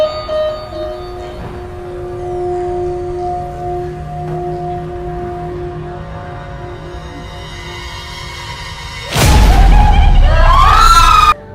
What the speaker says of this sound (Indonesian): Muncul sebuah suara ambulans yang ternyata sebuah mobil mainan.